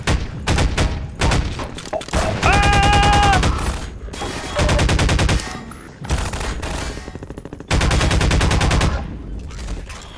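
Half-Life 2 gunfire rattles out in several long automatic bursts separated by short pauses, loud and close, with mechanical ringing tones between volleys.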